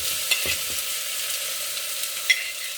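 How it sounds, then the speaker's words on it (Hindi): Roughly chopped onion sizzling in a hot pan for vegetable manchurian, a steady bright hiss with a few soft clinks of stirring, close and clear with no talking. "अब इसमें हम डालेंगे अनियन, जो कि मैंने रफली चॉप कर रखा है।"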